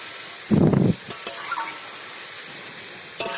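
Fish dropped into a pan of mustard paste, giving a short loud burst of sizzle and clatter, followed by softer scraping and stirring and a brief sizzle flare at the end.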